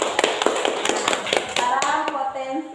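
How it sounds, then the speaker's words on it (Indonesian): A small group clapping in a classroom session, a quick run of close, sharp claps that thins out near the end, with a voice speaking over it. "Kasih tepuk tangan."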